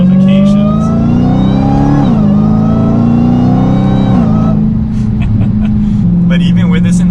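A Dodge Challenger SRT Hellcat's loud V8 engine revs and pulls hard under full acceleration, pitch sweeping upward through the gears with brief dips at shifts, then settles into a steady drone.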